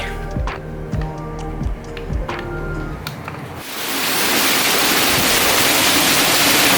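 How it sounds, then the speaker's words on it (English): Rhythmic ticking gives way to a loud, dense hiss of heavy rain pouring down, steady and close, with no voices. "So it's pouring down rain right now"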